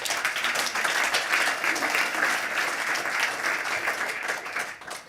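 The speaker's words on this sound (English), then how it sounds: "Please, a quick round of applause." Audience applause at a global health panel discussion, a dense and steady wash of many hands clapping together that holds evenly for several seconds before tapering off at the end.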